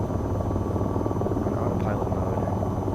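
A helicopter in the VTOL VR game hums with a steady low rotor and engine drone, loud and constant, with faint higher tones flickering over it.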